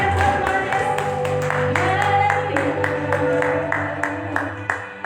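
A church congregation at a worship service claps and cheers steadily, rhythmic hand claps repeating over sustained music and voices, moderately loud and close throughout.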